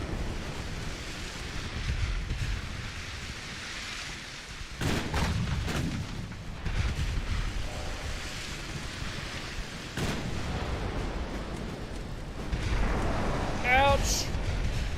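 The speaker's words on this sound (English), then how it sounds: "Torpedo detonation." Naval gunfire and a torpedo detonation in the warship game Ultimate Admiral Dreadnoughts, with several muffled booming blasts over a constant windy, ocean-like background rumble, ending with a rising whistle.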